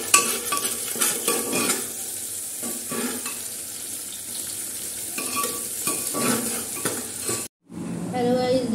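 A pan of home cooking sizzles steadily while a utensil stirs and scrapes through it, with occasional light clinks of metal against the pan. The sound cuts out briefly near the end, then the frying resumes close and bright.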